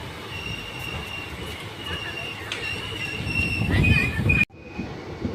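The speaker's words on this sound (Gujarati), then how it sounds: "તો મિત્રો આપણી ટ્રેન કુંકાવાવથી નીકળી ચૂકી છે" Passenger train on the Dhola to Veraval line running on its rails, with a steady rumble, a sustained metallic wheel squeal that builds louder, then an abrupt drop to a quieter hum near the end, heard from on board.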